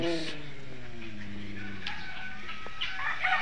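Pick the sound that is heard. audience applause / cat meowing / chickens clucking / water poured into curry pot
chickens clucking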